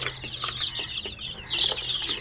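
Desi country chicks in a brooder give a dense, continuous chorus of high-pitched peeps and cheeps, close and steady throughout with many overlapping calls and no talking.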